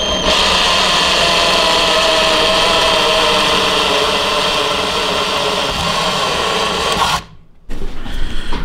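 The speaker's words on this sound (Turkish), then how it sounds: "Evet, delme işlemlerimiz bitti arkadaşlar" Power drill boring holes in the lid of a gasoline jar, a steady loud whirring buzz that runs continuously for about seven seconds, then cuts off briefly before a short restart.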